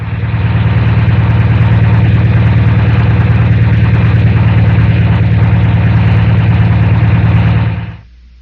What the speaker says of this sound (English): first you'll hear a normal engine